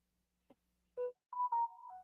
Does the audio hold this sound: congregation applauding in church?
no